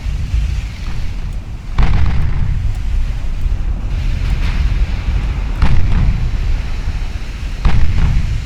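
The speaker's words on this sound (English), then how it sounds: "All my ships entertain themselves firing on the Kinburn." Battleship guns firing in the naval game Ultimate Admiral Dreadnoughts: several deep booming salvos land a couple of seconds apart over a steady rumble of wind and sea.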